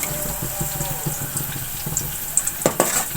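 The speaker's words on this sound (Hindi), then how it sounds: "अब इसी ऑयल में मैं लहसुन को भून लूंगी।" Garlic paste frying in hot oil in a pan, a steady close sizzle with scattered crackles and a few sharp utensil scrapes and clicks near the end, no talking.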